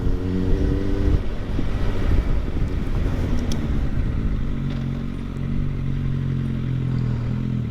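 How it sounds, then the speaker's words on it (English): Busy road traffic with motorcycles passing close by, a continuous loud engine drone and rumble with shifting pitch, some clatter and wind buffeting, no voices. "A lot more traffic than there once was."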